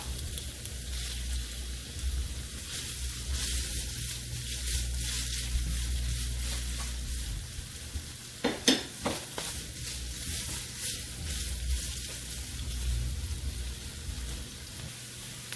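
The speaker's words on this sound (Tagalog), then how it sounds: "Ngayon gigisa natin yung ginger" Ginger being sautéed in hot oil in a pan, a soft steady sizzle running throughout with a few sharp clatters of stirring midway, close and without talk.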